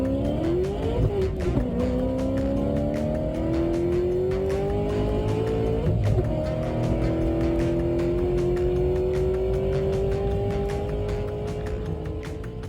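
American muscle cars race in a round of competition, their engines revving loudly and climbing in pitch through repeated gear shifts, with a continuous roar and no talk.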